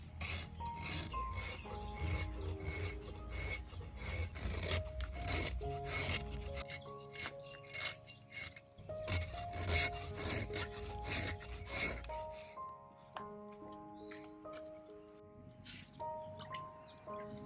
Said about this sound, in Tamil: இனிப்பு வடைக்கு தேவையான கருப்பட்டியை சீவி எடுத்துக்கலாம்.